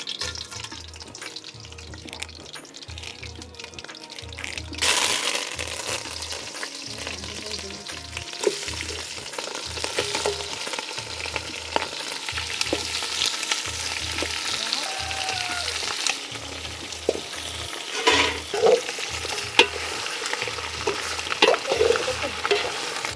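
Mustard seeds crackle and sizzle in hot peanut oil, a continuous near frying hiss with scattered pops and a low rhythmic hum underneath.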